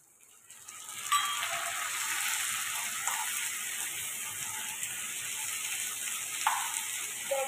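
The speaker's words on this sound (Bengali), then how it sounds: "এরপরে আমি দিচ্ছি টমেটো।" Tomato dropped into a hot frying pan: a sudden surge of steady, bright sizzling that starts about a second in and keeps hissing evenly, with a few small stirring clicks and no talk.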